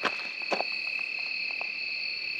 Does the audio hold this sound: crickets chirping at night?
yes